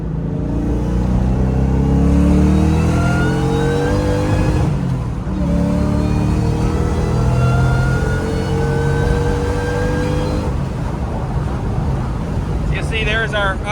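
A boosted Mustang pulls hard through second and third gear, its engine note climbing in long rising sweeps, dropping at the shift, then climbing again, loud and continuous from inside the car, with wind noise and a voice briefly over it.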